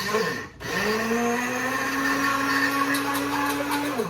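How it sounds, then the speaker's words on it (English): An immersion blender whirs steadily while olive oil is drizzled in to emulsify it. The motor gives a loud, close, even hum for a few seconds after a brief dip at the start. "Just your immersion blender in there, slowly drizzle it in there."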